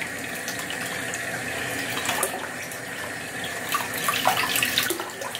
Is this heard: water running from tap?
yes